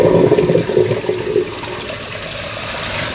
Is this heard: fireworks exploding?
no